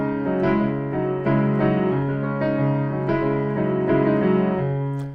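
Piano plays a guitar-like accompaniment pattern for a song, steady repeated picked chords in a driving rhythm, clear and close with no voices.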